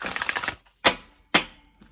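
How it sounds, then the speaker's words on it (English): Tarot deck being shuffled by hand: a quick fluttering riffle of cards followed by two sharp separate snaps as the stack is tapped or bridged, close and clear. "I like to shuffle it, get it as random as possible"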